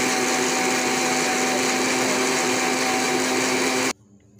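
A blender grinds green chutney with a loud, steady whirring roar that runs without break for about four seconds, then cuts off abruptly, leaving a quiet room.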